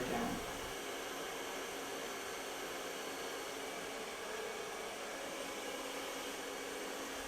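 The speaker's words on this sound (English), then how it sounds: "you can take the sides and start blow drying those straight down" A hair dryer runs steadily as hair is blow-dried straight, a constant close whooshing roar that holds unbroken from start to finish.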